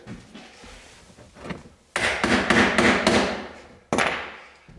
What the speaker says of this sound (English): I've got to go in and hammer it at the other end.